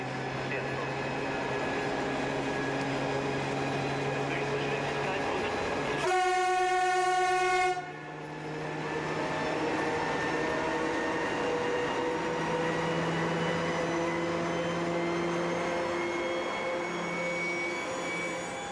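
A DR class 142 Ludmilla diesel locomotive of 4000 PS runs with a steady, loud engine drone and humming tones, interrupted midway by a sharp, blaring horn blast lasting about two seconds, then the engine continues alone.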